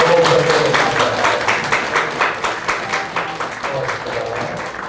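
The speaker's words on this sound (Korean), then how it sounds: "꽃다발이 전달이 되면 여러분들 환영의 큰 박수를 부탁드리겠습니다" A crowd at a party members' meeting in Pohang gives welcoming applause to lawmaker Yoon Sang-hyun as flowers are presented. The clapping is steady and rhythmic and stays loud throughout, with voices faintly underneath.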